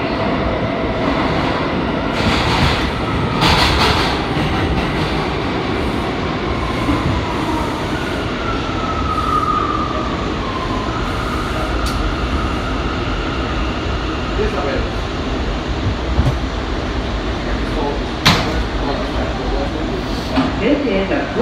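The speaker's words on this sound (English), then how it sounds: "This is a Brooklyn-bound C local train." A New York City subway C local train, Bombardier R179 car, rumbles steadily along the tracks, with wheel squeals and hissing bursts as it runs and doors closing; muffled announcements sound in the background.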